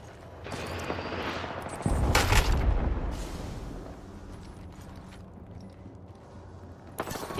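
Weapon fire in the Apex Legends video game: a burst of loud close gunshots with mechanical clatter, fading into quieter game ambience, with another sharp shot at the end.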